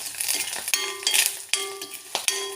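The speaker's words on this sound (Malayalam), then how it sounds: "ഉലുവയിട്ടിട്ടുണ്ട് ഇനി ശകലം കരിയാപ്പലയും നല്ലപോലെ ഇളക്കി വിടും" A spoon scrapes and clinks against a pan while fenugreek and curry leaves are stirred. The sharp metallic taps come a few times in quick succession, close and clear, over a faint sizzle.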